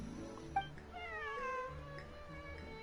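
A cat in the video game Genshin Impact meows, a drawn-out, wavering, whiny cry with a short sharp chirp just before it, heard close and fairly quiet against a low background.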